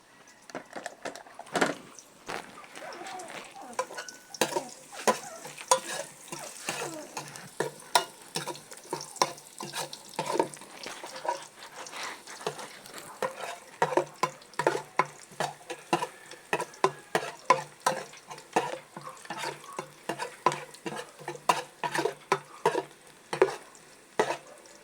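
Garlic sautéing in a pan for a mushroom dish, with a steady soft sizzle broken by frequent scraping stirs and clacks of a utensil against the pan, close and fairly quiet throughout.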